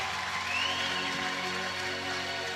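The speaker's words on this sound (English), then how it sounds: "A very loud crowd. A lot of fans have clappers." Loud, continuous roar of an arena crowd at a basketball game, with dense clapping and many fans rattling plastic clappers throughout.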